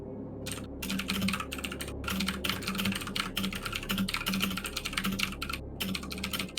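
A computer keyboard clicks and clacks in quick, dense bursts of typing with a few short pauses, close and fairly loud, during a tabletop role-playing game session.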